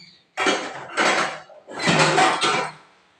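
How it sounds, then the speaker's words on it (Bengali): Steel pot of dal on a gas stove being covered with its lid, giving two pairs of close clattering metal knocks and scrapes, each burst lasting about half a second, with no voices. "ডালটা ঢাকা দিলাম"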